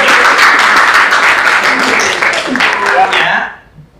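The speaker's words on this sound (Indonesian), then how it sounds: "Oke, tepuk tangan." A classroom of students claps together in a burst of quick overlapping applause, loud and close for about three seconds before it fades out abruptly.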